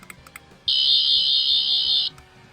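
A Fourteenth Doctor sonic screwdriver toy gives one loud, steady high-pitched electronic whine lasting about a second and a half, preceded by a few faint clicks.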